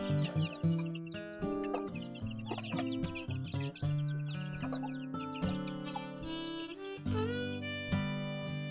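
Chickens cluck and call continuously nearby, a busy overlapping mix of short clucks and longer squawks from several birds, with no pauses.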